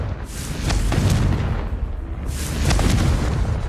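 A Confringo spell blast in Hogwarts Legacy gives two heavy booming explosions about a second apart, loud and close, each ending in a rumbling tail.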